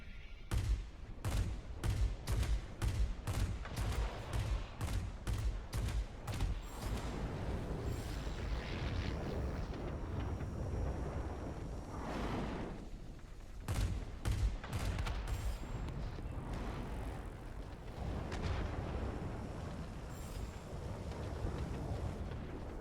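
Rapid bursts of aircraft cannon fire from a Lockheed XP-58 Chain Lightning fighter in World of Warplanes, loud close volleys of repeated shots with short pauses, over a steady engine and wind roar.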